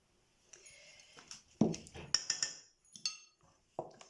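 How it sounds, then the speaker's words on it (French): A spoon stirring salt into crêpe batter in a bowl for Moroccan thousand-hole crêpes, giving sharp, irregular clinks and scrapes against the bowl with brief quiet gaps between them, close and clear, with no talking. "Que je vais bien mélanger"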